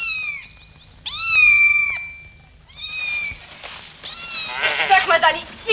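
Several cats meow in repeated rising and falling calls, close and fairly loud, with people talking through and between them in a 1956 German film scene.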